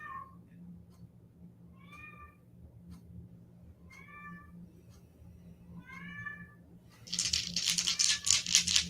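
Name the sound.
cats meowing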